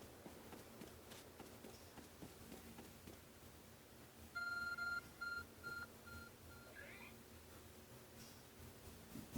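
Electronic beeping from a glowing object in the video game Pokémon Legends: Arceus, a short run of clean repeated tones pulsing in a quick rhythm over quiet game ambience.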